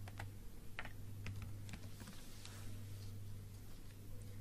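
Sparse, quiet key presses on a computer keyboard at a command prompt, a few irregular clicks over a steady low hum, with no one speaking.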